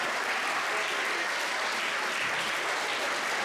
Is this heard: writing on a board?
no